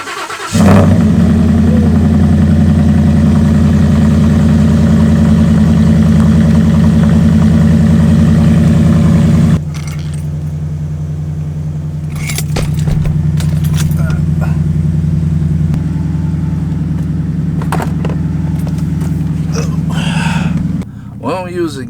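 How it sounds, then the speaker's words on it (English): A lifted two-wheel-drive Ford F-150 pickup cold-starts on a snowy day and settles into a steady, loud low idle that runs throughout, with a brief drop partway. Someone talks nearby over the engine. "Do a little cold start."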